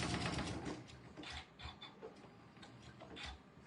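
A Classi Quilter sewing machine stitches quilt fabric for a car trash can pattern, producing a steady run of close, rhythmic mechanical ticks that slow and pause toward the end.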